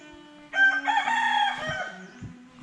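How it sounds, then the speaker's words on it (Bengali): A rooster crows once in the morning near a campsite at Khadimnagar National Park, a loud, close, drawn-out call of about two seconds over a quiet background. "শুনতে পাচ্ছেন, এটা হচ্ছে মোরগের ট্রাক।"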